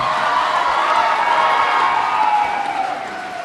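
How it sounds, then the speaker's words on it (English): A crowd at a Pasifika student union luau claps and cheers loudly for the island of Tonga, a dense roar of applause and shouts that tapers slightly at the end. "another round of applause for the island of Tonga."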